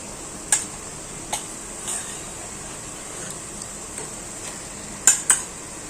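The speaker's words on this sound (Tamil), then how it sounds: "சிக்கனை சேர்த்துட்டேன் நல்லா மிக்ஸ் பண்ணி எடுத்துக்கலாம்" Chicken is stirred into tomato masala in a pan for a Tamil chicken curry, with sporadic sharp spoon-on-pan clicks and scrapes over a soft continuous sizzle, including a quick pair of taps near the end.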